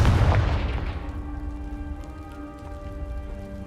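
A Confringo blast spell explodes in Hogwarts Legacy with a loud, heavy boom at the start, followed by a rumbling, debris-like tail that fades over a few seconds.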